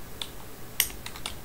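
Quick, light taps on a computer keyboard, a few scattered keystrokes heard close and fairly quiet with no talking.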